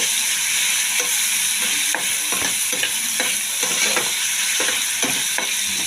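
Bottle gourd sizzles loudly in a hot pan for a prawn curry, with a steady bright hiss broken by periodic scraping strokes of a spoon stirring it, close and alone.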